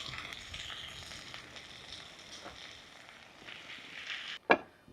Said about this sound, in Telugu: సన్నగా తరిగిన పాలకూర వేసేస్తున్నాను